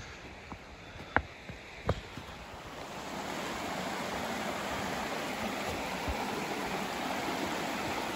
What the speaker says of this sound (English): the water like seemingly just comes out of the ground right there